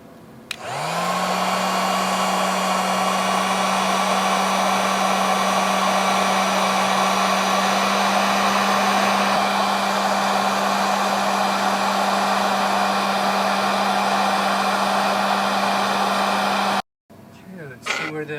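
A hot air rework tool blows steadily on the circuit board of a DJI Phantom 4 remote, reflowing solder. A loud, constant whoosh runs unbroken for about sixteen seconds and then cuts off abruptly.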